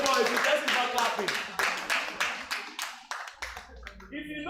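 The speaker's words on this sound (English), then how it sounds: "please clap for yourself" A room of entrepreneurship-event attendees claps for themselves in loud, dense applause that thins into scattered rhythmic claps, with voices talking over it throughout.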